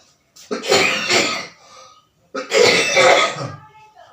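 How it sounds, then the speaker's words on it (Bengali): A person with a cold coughs in two separate harsh, close bursts, each a cluster of throaty hacks about a second long, divided by a brief silence. "একটু ঠান্ডা লেগে যাওয়ার জন্য কাশি হচ্ছে"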